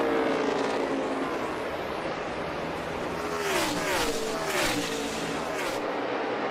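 NASCAR Cup Series race cars roar through the final lap of a championship race, a dense continuous engine drone with several cars sweeping past in overlapping pitch-shifting waves, loud and steady throughout.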